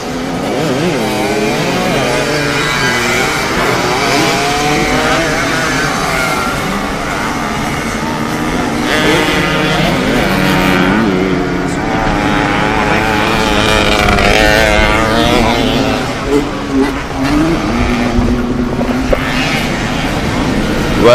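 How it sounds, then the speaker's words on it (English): KTM 125cc and Kawasaki KDX 125 two-stroke motorcycles race at a rallycross event, engines whining and revving loudly up and down through gear changes for the whole stretch, with crowd and commentary noise underneath. "it is KTM 125cc bike leading the race."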